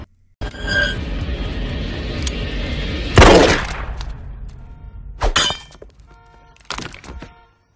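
Several sharp pistol gunshots from Breaking Bad ring out over a rumbling dramatic backdrop, the first loud and reverberant, others following in a spaced burst.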